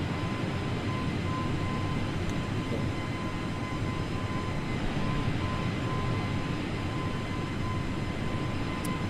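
Steady, continuous drone of an aircraft engine in Microsoft Flight Simulator, a constant hum with a faint tonal whine held at even loudness throughout, with no voices.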